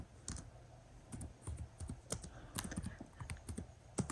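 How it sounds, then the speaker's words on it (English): Close, quiet typing on a computer keyboard, an uneven run of light key clicks and taps spread through the moment. "at the top I type land for sale"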